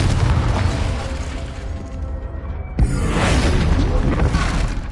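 Confringo spell explosion in the video game Hogwarts Legacy, a heavy rumbling blast that fades, then a sudden sharp burst swelling into another loud roaring explosion, with a voice mixed in.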